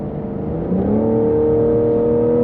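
Engine of a 2020 Cadillac CT5 550T in sport mode hums steadily from inside the cabin, its tone rising and then holding a smooth, droning pitch as the car accelerates.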